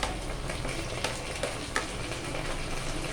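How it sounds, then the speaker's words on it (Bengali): Ginger and garlic paste fries in hot oil for a Mughlai chicken curry, with a continuous close sizzle and occasional stirring scrapes and small taps. "আদা রসুন বাটাটা ভালো করে এবার তেলে একটু কষে নেব"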